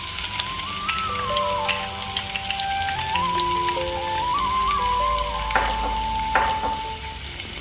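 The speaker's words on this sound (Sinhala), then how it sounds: "භාජනයක් ලිපේ තියලා ඒකට තෙල් ටිකක් දාලා ඊට පස්සේ අපි කපාගත්ත ලුණු ටික ඒකට එකතු කරගන්නවා" Chopped onions fry in oil in a pan on the stove for seeni sambal, giving a steady, close crackling sizzle that runs throughout, with tonal background music layered over it.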